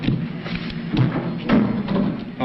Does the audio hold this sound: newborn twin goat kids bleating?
no